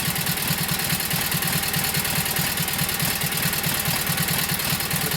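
A Kohler KT17 twin-cylinder engine idles steadily just after its first start, a loud, even low thumping pulse with mechanical rattle, running alone without voices.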